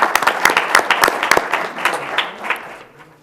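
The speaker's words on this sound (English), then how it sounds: "We didn't get a chance to clap for you guys earlier." Audience at a city council meeting breaks into brisk, dense applause that carries close and loud, then gradually thins and fades out.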